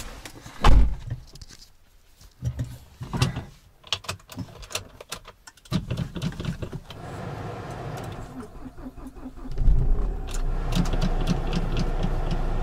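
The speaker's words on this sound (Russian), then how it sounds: "Попробую завести машину." A car engine is started. A few knocks and clicks come first, then the engine cranks and catches, and it settles into a steady idle that stays close by.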